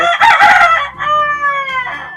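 A rooster crows close and loud, one full cock-a-doodle-doo call with a long drawn-out ending, heard alone.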